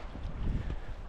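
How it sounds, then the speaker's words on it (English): Wind gusting across the open shore of Hayden Lake, a steady low buffeting rush with microphone rumble, loud and continuous for the whole moment with no voices. "I don't know if you can hear me, but it's windy"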